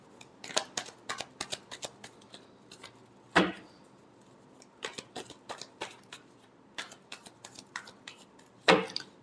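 Tarot cards shuffled by hand in a quiet room, a run of crisp riffling bursts and soft slaps with short pauses between them, alone without talk.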